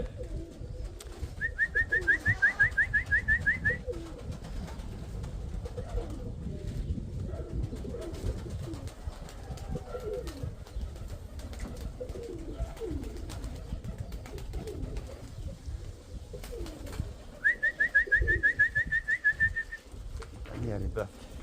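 Pigeons coo in a few short rolling bursts, one early and one near the end, over steady low background noise with no talking.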